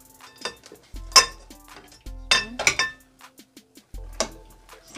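Crab and shrimp sinigang is served from a pot into a container, with sharp metal and dish clinks in separate clusters, a ladle knocking and scraping close by between quiet gaps.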